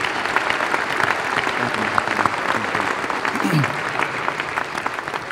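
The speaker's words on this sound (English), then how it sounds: "I want y'all to give a round of applause for Mr. Spencer Tillman again" A banquet audience at the Chucky Mullins Courage Award dinner gives a sustained round of applause, dense and even clapping filling the room with a brief voice cutting through midway.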